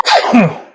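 A single close, sharp sneeze with a quick inhaled lead-in and a bright burst that fades within a second.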